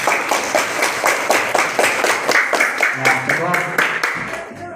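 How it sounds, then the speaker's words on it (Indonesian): A classroom group of students claps in unison for a small team, quick rhythmic beats close by that settle into a looser patter before fading, with voices mixed in. "Tepuk tangan untuk kelompok 1."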